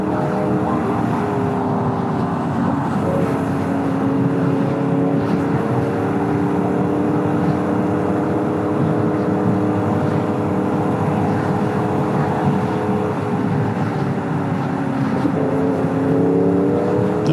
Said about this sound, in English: It sounds almost like a Yamaha Crossplane, but I can't tell.